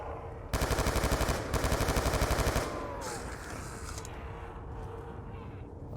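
Rapid automatic gunfire rattles in Call of Duty Zombies, two loud bursts of evenly spaced shots before fading into a lower game rumble with faint effects.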